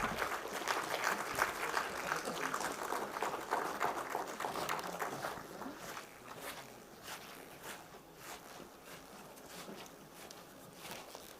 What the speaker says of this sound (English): I request the audience to kindly welcome them with a big round of applause